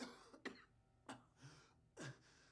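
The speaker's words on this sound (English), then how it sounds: "Oh, I'm coughing to death," One person coughs about four times in short, rough bursts, faint and close, recorded during a Fallout 4 gaming session.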